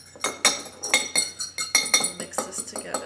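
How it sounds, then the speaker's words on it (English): A little fork whisking an oil mixture in a small dish, rapid rhythmic metallic clinking and scraping close up, about two strokes per second throughout. "Mix this together. With a little fork, just whisking it."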